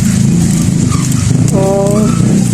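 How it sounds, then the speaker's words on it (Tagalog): Motorcycles rumbling past outdoors near a home kitchen, a loud continuous engine drone that swells steadily across the moment, with a faint higher whine rising near the end. "napasensya dyan mo, daghan di motor"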